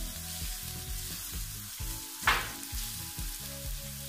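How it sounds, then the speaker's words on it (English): Onion frying in olive oil in a pot for mushroom tomato pasta crackles with a steady sizzle, and one brief, louder hiss flares up midway. No one speaks. "I'm going to be adding onion into the pot"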